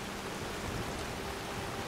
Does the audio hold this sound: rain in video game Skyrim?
yes